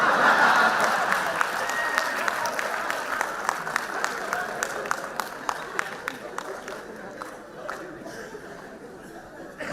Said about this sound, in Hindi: और जिस हिसाब से इधर तालियां बज रही